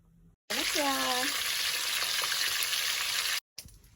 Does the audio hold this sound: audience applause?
no